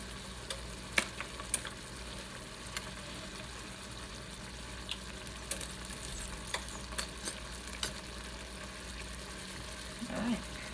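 Ketchup and mustard being stirred into a chicken sloppy joe filling in a pan, a quiet steady sizzle with soft scraping and occasional light clinks of the utensil.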